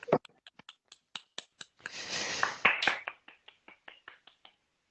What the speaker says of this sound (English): I just want to lead a little round of applause here